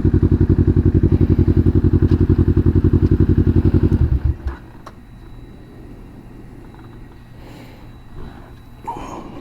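Kawasaki Vulcan S motorcycle engine loud and close for about four seconds with a steady rapid pulsing rumble, then cutting away to quiet background with faint knocks.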